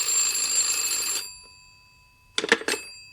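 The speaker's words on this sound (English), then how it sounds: "the phone rang in my room at the hotel" Telephone ringing in a hotel room, a bright electric bell that trills loudly for about a second and stops, followed after a short quiet gap by a burst of clattering handling sounds.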